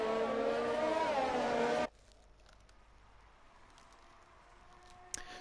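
Race car engines whine in a racing video game during a formation lap at Mexico, a loud rising engine note for nearly two seconds before cutting to a faint, low background hum.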